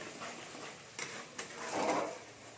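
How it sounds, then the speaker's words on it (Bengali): Spice masala for a Maharashtrian-style brinjal curry is stirred in a pan. The sound is quiet: soft scraping and a couple of sharp taps over a faint frying hiss that briefly swells. "আমি নাড়ছি এটা ভাজতে ভাজতে"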